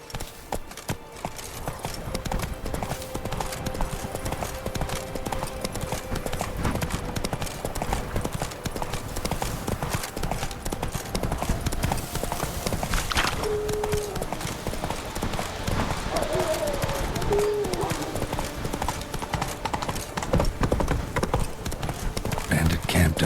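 Horse hooves of Roach, Geralt's mount in The Witcher 3: Blood and Wine, clip-clop steadily on the ground throughout, under game music with someone speaking at times.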